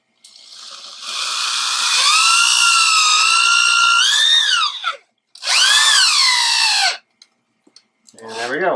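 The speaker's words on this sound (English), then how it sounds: "find a spot right on the baseball where you want to drill through" A power drill whines loudly and close, its pitch sagging under load as it bites through a baseball, then a second shorter burst follows.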